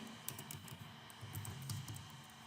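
Code being typed on a computer keyboard while building an Android calculator app in Java, heard as scattered light key clicks, faint and close, with a quiet low hum underneath.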